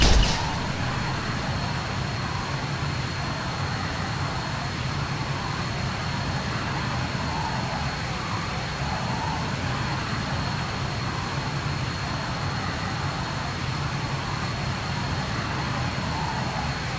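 An A-10 Warthog jet in the video game Arma 3 flies with a steady, loud engine roar that holds constant throughout, with no talking.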